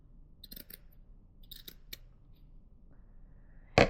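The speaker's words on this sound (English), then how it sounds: "I need to cut this fold here." Scissors snip through a fold of fabric in a few short crisp clusters of cuts, close and quiet, followed by a louder rustle at the end, with no talking.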